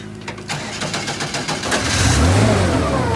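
A 2017 Acura NSX fires up and accelerates on a test drive after a rebuild, the engine note climbing from a rough start into a strong, loud, steady roar close by with no talking.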